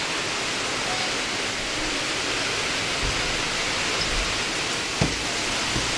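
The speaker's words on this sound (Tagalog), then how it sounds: "Grabe na yung ulan, friendship. Ang lakas na." Steady, dense hiss of heavy typhoon rain pouring continuously, with a faint thump near the end and no voices.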